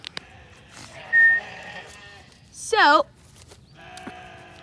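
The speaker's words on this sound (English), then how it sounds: "you can hear my sheep in the background." Sheep bleat in the background, two loud wavering calls a couple of seconds apart, with a person briefly speaking nearby.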